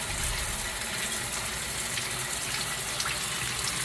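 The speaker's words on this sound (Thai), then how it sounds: "น้ำเป็นระบบกดปุ่มค่ะ" A push-button tap runs in a caravan campsite bathroom in England, releasing a steady, loud, close gush of water that splashes continuously into the basin without pause.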